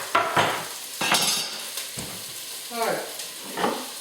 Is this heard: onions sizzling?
yes